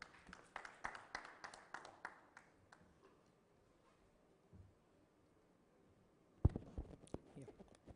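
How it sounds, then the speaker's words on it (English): Conference audience applauding to welcome a speaker: a burst of scattered hand claps that fades into near silence, then a second sharp round of clapping near the end, fairly faint overall. "Let's welcome him with a big round of applause"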